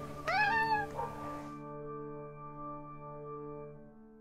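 A cat gives one clear, close meow with a rising then falling pitch, followed by a low sustained humming drone that lingers and slowly fades.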